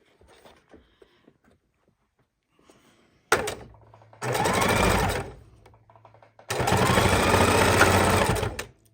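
A sewing machine stitches a double seam across the end of a tote bag strap: two loud bursts of rapid mechanical whirring, one short and one longer, separated by a thunk and soft handling noises.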